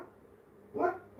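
A puppy lets out a single short bark near the end, moderately loud and close, with a quiet room background beforehand.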